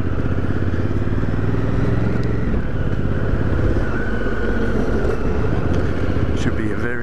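A motorcycle engine drones steadily and close throughout on a Flinders Ranges ride, loud and continuous with wind buffeting, while people talk over it.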